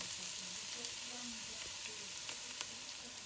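Okra and tomatoes fry in a pan for a curry, giving a steady, close sizzle with faint stirring clicks throughout and no talk.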